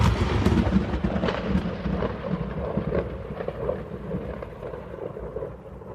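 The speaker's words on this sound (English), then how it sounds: "With a cheer from the crowd and a peal of thunder," A peal of thunder on a storm-soaked day at a cowboy rodeo, a long low rumble rolling and gradually fading over six seconds, with a hiss of wind or rain underneath.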